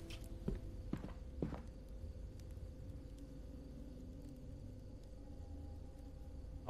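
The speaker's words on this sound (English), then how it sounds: "I'm hearing footsteps, bro." Footsteps in the horror game Fears to Fathom: a few soft, muffled thuds early on, then quiet ambient hum with only faint scattered sounds, fairly distant and low in level.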